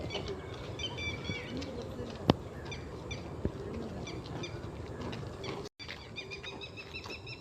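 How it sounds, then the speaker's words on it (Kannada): Outdoor bird calls near a temple on a campus, repeated chirping notes scattered through a steady background hiss, fairly distant and soft, with a short dropout near the end. "ಇಲ್ಲೊಂದು ಬರ್ಡ್ ನೋಡಿ ಎಷ್ಟು ಚೆನ್ನಾಗಿ ಕೂಗ್ತಾ ಇದೆ ನೋಡಿ"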